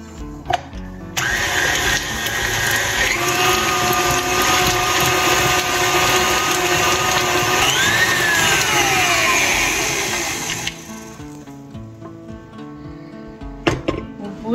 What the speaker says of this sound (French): nous allons mixer jusqu'à ce que notre beurre devienne crémeux.